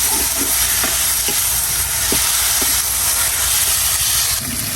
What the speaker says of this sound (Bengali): এবার শাকটা তেলে করে দেবো